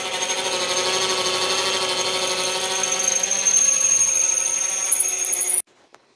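A power drill with a carbide-tipped bit whines loudly and steadily as it grinds into hard material for several seconds, then stops abruptly.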